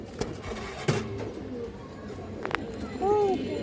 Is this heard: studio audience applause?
no